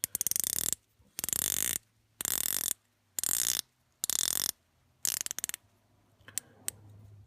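Bezel on the Scurfa Diver One dive watch being turned in six rapid bursts of crisp, close ratcheting clicks separated by short silences, followed by a few faint isolated ticks.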